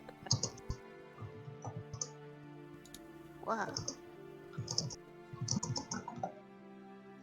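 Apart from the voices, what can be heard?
typing on a typewriter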